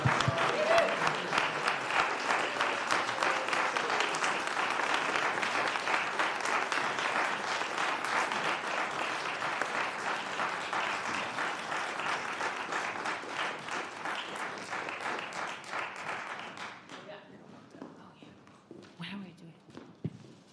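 Steady audience applause in a church, congratulating young adults at a bridging ceremony, a dense sustained clapping that slowly thins and fades toward the end, with a few scattered claps left.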